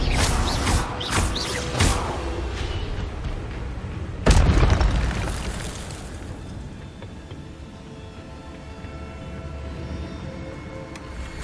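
Spell blasts cast in Hogwarts Legacy: several sharp magical cracks in quick succession, then one big booming burst that rolls off into a fading rumble over a steady game backdrop.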